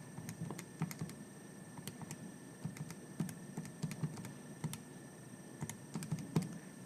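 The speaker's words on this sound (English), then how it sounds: "if you type that into your calculator" Calculator buttons are pressed in an irregular series of light, close plastic taps for several seconds, entering numbers for a chemistry mole calculation, with no talking.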